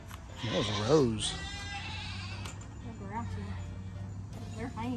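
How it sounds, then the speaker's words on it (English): Hungry, grouchy goats bleating nearby, several wavering cries early on, then further fainter bleats, over a low steady hum with a little background talk. "Hangry goats."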